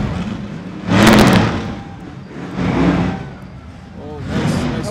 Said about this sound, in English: Oh, I hear engines revving up.